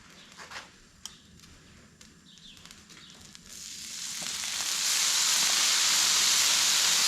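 Steam hisses off a hot griddle being cleaned of old food. A few quiet clicks and shuffles come first, then the hiss swells into a loud, sustained broadband sizzle that holds to the end.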